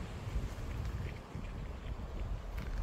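Gusty wind roars steadily across the microphone beside the River Ware in Ware, Hertfordshire, England, a dense low rumble with no voices.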